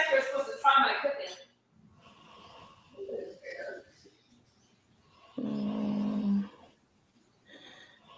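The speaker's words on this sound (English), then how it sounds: "I hope y'all can't hear my husband snoring." A husband snores in short, rough, low bursts, with one loud drawn-out snore in the middle, while someone talks nearby at moderate volume.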